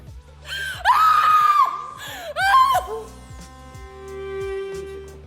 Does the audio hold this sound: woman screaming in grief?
yes